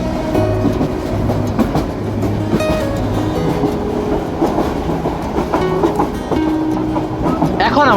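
Loud onboard rumble of the Kishoreganj Express travelling through Dhaka, with steady wheel clatter over rail joints and a few brief squeals and knocks from the carriages, continuing throughout.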